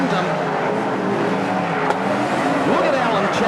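Speedway race cars lapping a dirt track, a loud continuous engine roar with rising and falling pitch as cars pass, a commentator talking over the noise throughout.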